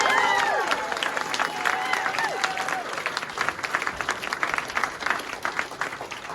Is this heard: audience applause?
yes